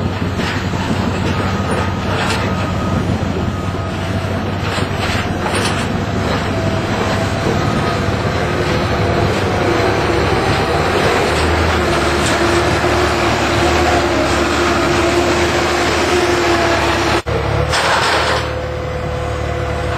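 A yellow TimberPro TF830B forestry machine works a load during matting, its diesel engine droning steadily and loud throughout with hydraulic whine and occasional clanks.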